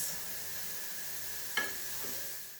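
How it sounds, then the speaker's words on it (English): Sautéing in a pot for Jamaican pumpkin rice gives a soft, steady sizzle with a faint hiss throughout, broken by one brief clack of a utensil partway through. "I'm just gonna let that saute off for 2 minutes."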